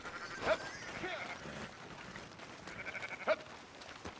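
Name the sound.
herd of sheep bleating in the video game Red Dead Redemption 2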